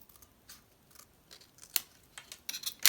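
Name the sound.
scissors cutting paper for junk journal envelope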